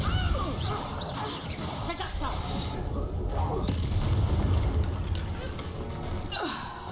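Spell impacts and bursts from the Hogwarts Legacy video game, a Depulso force-push blast among dense game combat noise, with booming hits, crashes and voices layered throughout at steady high loudness.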